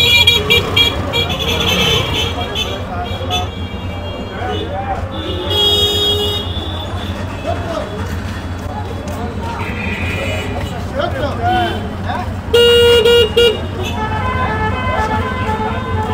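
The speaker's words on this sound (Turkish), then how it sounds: "Abi korna sesleri manyak ya." Car horns toot repeatedly in congested street traffic, several short and longer blasts cutting over a steady rumble of idling vehicles and engines, fairly close and loud throughout.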